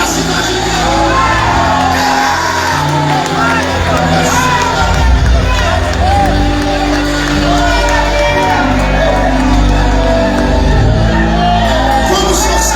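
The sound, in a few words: crowd shouting loudly at a church revival meeting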